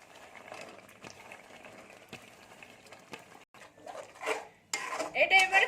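Spices being stirred in oil in a pan while cooking matar paneer, with a spoon clinking and scraping against the metal in irregular strokes, close up and growing louder toward the end.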